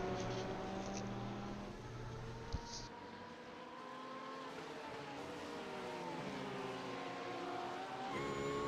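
Porsche GT3 race cars lapping Spa-Francorchamps in iRacing, a steady engine drone with rising and falling gear pitches as the cars run close together, with a brief click partway through.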